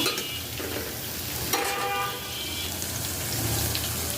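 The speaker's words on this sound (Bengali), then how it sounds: "এখন হচ্ছে মশলা কষিয়ে নিচ্ছি ঝরকা করার জন্য" Spices fry in a pan with a continuous sizzle while a utensil stirs and scrapes through them, producing a busy, close crackling with occasional clinks.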